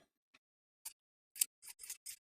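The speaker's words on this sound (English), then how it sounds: "Then we're going to trim the seam allowances for the section that we just sewed." Sewing scissors snip through the seam allowances of a vintage 1960s step-in dress, a quiet series of crisp, close cuts speeding into quick bursts after a few sparse clicks.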